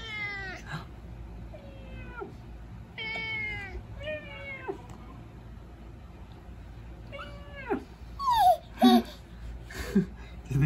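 A house cat meows several times in short drawn-out cries spaced a couple of seconds apart, close by, followed near the end by a few louder higher-pitched vocal sounds from a young child.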